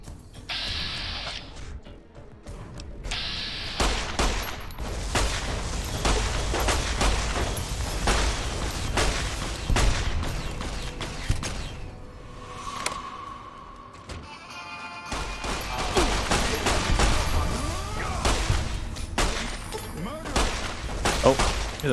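Gunfire in the video game Don't Feed the Plants, rapid bursts of shots and cracking impacts mixed with game sounds, with people talking throughout.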